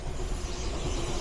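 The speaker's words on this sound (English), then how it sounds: "And there's a train again." A train runs past near a canal in the Black Country, a steady low rumble close by and continuous with no talk over it.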